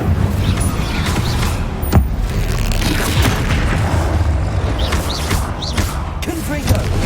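Hogwarts Legacy combat with spell casts and booming explosions, dense and loud throughout, with whooshing bursts and heavy impacts layered over one another.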